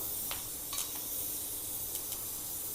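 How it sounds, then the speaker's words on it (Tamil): Mustard seeds, cumin and pepper crackle in hot oil and ghee for tempering, a quiet, even hiss broken by a few small sharp pops. "இதை தாளித்து நம்ம பொங்கலில் போட்டு"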